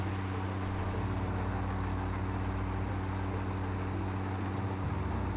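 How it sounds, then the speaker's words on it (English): A tractor engine in the video game Satisfactory drones steadily while driving, a constant low rumble with a continuous mid-range hum and no speech. "long trips like these are quite annoying to just listen to the tractor noise the entire"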